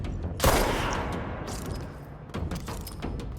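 Gunfire in the video game Control, a loud burst of shots near the start followed by a decaying rumble and further scattered shots and impacts, all close and without talking.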